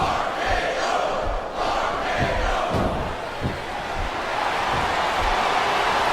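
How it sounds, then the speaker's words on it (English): A wrestling arena crowd in the SmackDown vs Raw 2007 video game roars and chants in a sustained, loud wash of cheering with rhythmic shouted surges, and no commentary over it. "I love hearing the crowd come alive"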